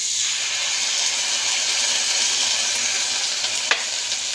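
Ginger garlic paste sizzles with browned onions in a pan, a steady bright frying hiss with a brief clink of stirring near the end.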